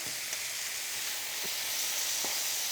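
Onions and marinated Korean bulgogi pork sizzle in a hot pan, a dense steady hiss with a few soft pops and stirring touches, close and continuous, with no talk.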